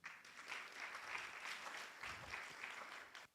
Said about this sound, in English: Clap for this event.